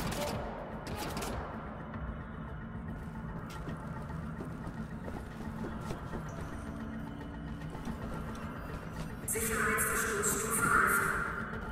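Heavy weapon fire in the shooter game Wolfenstein: The New Order, a steady, dense rattle of rapid shots that keeps going throughout and grows louder and harsher near the end.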